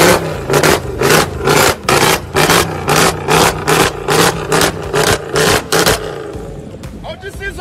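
A convoy of luxury cars heading to the Durban July, with a series of loud, evenly spaced revving bursts, about a dozen pulses in quick rhythm, then the engines settle to a lower rumble as voices come in.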